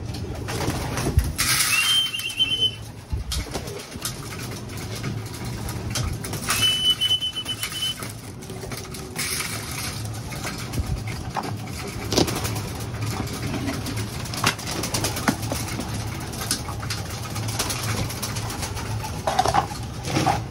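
Breeder pigeons coo softly at feeding time, their low calls scattered through a steady background of engine and traffic noise with some brief higher chirps.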